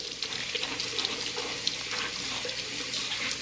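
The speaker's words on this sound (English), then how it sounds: "I just take it and really scrub with some really hot water" Hot tap water running steadily into a sink while vegetables are scrubbed, a constant close hiss and splash with no talking.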